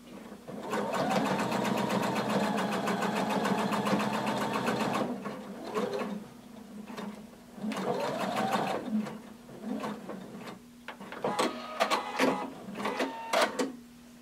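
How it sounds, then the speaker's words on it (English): A sewing machine stitches fabric for a hooded tunic, running in loud sustained bursts with brief pauses and a backstitch, then shorter stop-start runs near the end. "we're going to sew until we get to this first dot or notch, and then we're going to backstitch"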